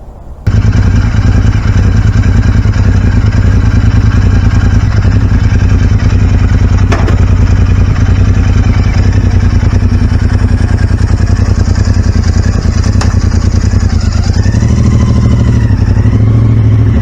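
An Indian motorcycle engine running loud and close, a steady heavy drone that holds throughout with a slight shift in pitch near the end.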